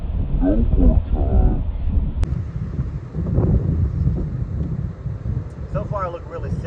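Strong hurricane-force wind roars across a golf course and batters the microphone with heavy low rumbling gusts, while someone talks over it at moments.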